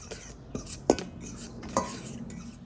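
Fish batter ingredients mixed in a bowl for Fiji-style fish and chips, with a few sharp utensil clinks against the bowl and soft stirring scrapes between them, close and quiet with no talk.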